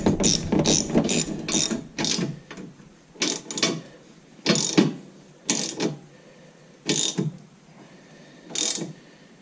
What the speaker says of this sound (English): now I'm just going to grab the ratchet and tighten these all up